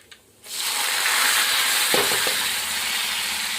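Onions and tomatoes drop into hot oil in a village kitchen, bursting into a loud, steady sizzle that carries on without a break after a brief quiet start.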